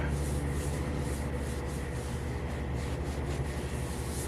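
Fine sanding pad rubbing over fresh paint on a 2021 Chevy 2500 truck, a steady close scratchy hiss that continues unbroken with no talking.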